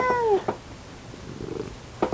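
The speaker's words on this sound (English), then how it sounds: "Cat in my lap. She's under the blanket." A cat lying in a lap under a blanket gives a short, close chirping meow, and another small vocal sound follows near the end in a quiet room.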